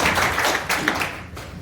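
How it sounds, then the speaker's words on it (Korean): Audience applause greeting a Gyeonggi Province disability welfare official at a public forum on severe disability, a dense steady patter of many hands clapping at moderate loudness, fading slightly toward the end. "박수로 맞이해주세요."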